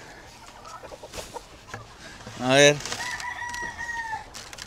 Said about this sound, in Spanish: acá anda el gallo, bien despierto